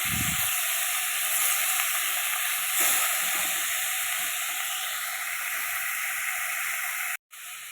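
Chopped green tomatoes fry in a pan over a medium flame, giving a steady broadband sizzle throughout with a few faint scrapes of stirring, close and moderately loud, before a brief dropout near the end.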